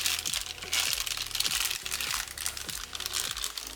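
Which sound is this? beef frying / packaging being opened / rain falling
packaging being opened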